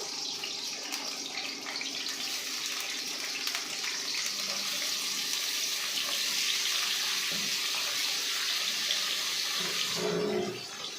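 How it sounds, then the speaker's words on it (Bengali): Cut potatoes dropped into hot oil in a pan while making a vegetarian jackfruit curry, giving a steady, loud broadband hiss and sizzle that runs throughout before fading near the end. "আলুগুলোকে তেল গরম হয়ে গেছে আমরা দিয়ে দেবো"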